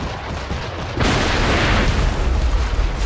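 A ship explodes during a naval battle in Assassin's Creed 3. A sudden, loud, broad boom cuts in about a second into steady game noise, then a dense rumbling roar sustains without letup.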